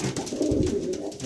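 Pigeon in a breeding loft gives a close, low, rolling coo, one continuous throaty call lasting just over a second.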